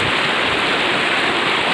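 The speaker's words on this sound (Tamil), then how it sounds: "வா, மழை வருது, போவோம்." Heavy rain falls outdoors during a travel trip, a loud, steady, dense hiss filling the whole moment with no break and no voices.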